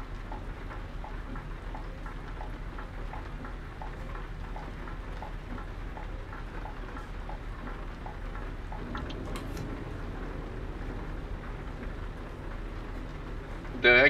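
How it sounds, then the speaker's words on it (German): Steady rain patters on a vehicle during a truck convoy drive, a soft continuous hiss at low level with faint droplet ticks, and a brief louder knock at the very end. "Es regnet gerade bei mir."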